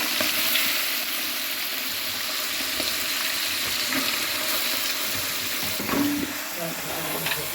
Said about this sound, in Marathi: लसूण आणि आलं आपलं चांगलं भाजले त्यातच टाकूया आपण आता हे मटण